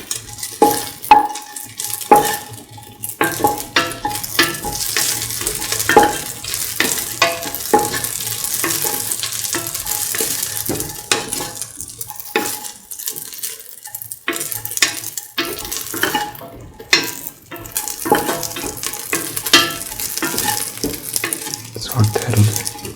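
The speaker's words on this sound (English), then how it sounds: "Saute thoroughly." Ingredients for a sweet coconut milk pasta sautéing in a pan, with loud, close sizzling and constant rhythmic stirring scrapes and taps of a spoon against the pan throughout, with no talking.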